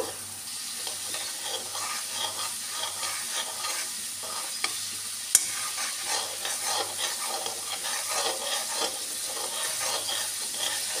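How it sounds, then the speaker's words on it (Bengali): Cumin being fried and stirred in a pan of oil for a hilsa fish curry, a steady close sizzle with rhythmic scraping strokes and a couple of sharp utensil clicks, alone and quiet. "জিরেটা একটু কষে নেব।"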